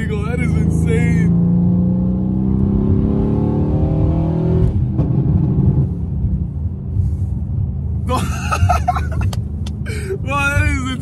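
A 1000 hp PTG-tuned Mercedes-AMG C63s accelerates hard with a loud, rising engine roar that holds steady for several seconds, with excited voices breaking in near the end.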